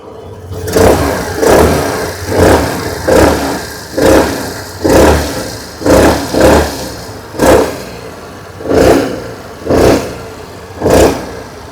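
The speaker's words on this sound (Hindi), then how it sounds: "आइए अब सुन लेते हैं इस स्कूटर की एग्जॉस्ट नोट।" A 2026 Suzuki Burgman 125 Street EX scooter engine is blipped repeatedly, about a dozen short revs in an even rhythm, each rising and falling, loud and close, with no talking.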